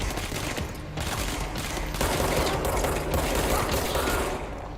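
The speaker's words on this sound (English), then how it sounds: "Crap, he sent a grenade." Sustained gunfire and a grenade blast in the video game Control, a dense, loud rattling fusillade that runs throughout with heavier bursts toward the middle.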